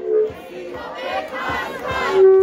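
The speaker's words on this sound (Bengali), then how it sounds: "আমরা একটু স্লোগান ধরি" Student protesters at Shahjalal University of Science and Technology chant slogans together, a crowd of voices rising and falling in rhythmic bursts, fairly close and steady throughout.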